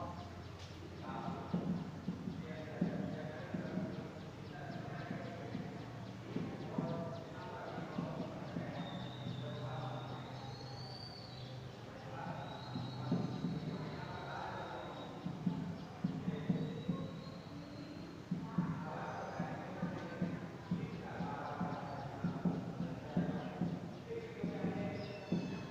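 Horse hooves clip-clopping in a steady rhythm under ongoing speech and background music, with a thin whistle-like tone drifting above.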